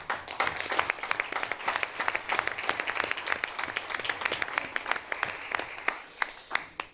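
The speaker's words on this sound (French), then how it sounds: "Je propose qu'on applaudisse nos services" Attendees at a municipal council meeting applaud the town's municipal services staff, a sustained round of many hands clapping with distinct sharp claps standing out, fairly faint and distant, continuing for several seconds with little talk.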